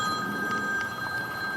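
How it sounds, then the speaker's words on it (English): Telephone ringing insistently indoors, a steady electronic ring tone pulsing in repeated bursts, fairly loud over a quiet room with no voices. "this phone just goes like crazy"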